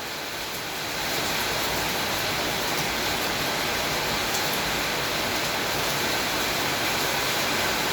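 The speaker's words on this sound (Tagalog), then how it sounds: "ayan video lumakas uli ang ulan oh" Heavy summer rain in the Middle East pours down in a dense, steady hiss that swells up in the first second and stays loud and unbroken.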